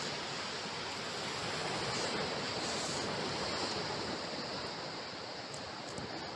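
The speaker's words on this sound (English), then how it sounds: "calm crashing waves" Calm waves breaking on a seashore at dusk, a steady, continuous roar of surf wash with no pause and no voices.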